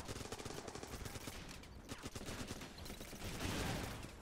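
Sustained American rifle and machine-gun fire in the Running With Rifles war video game, a dense continuous crackle of overlapping shots swelling slightly toward the end, with no talking.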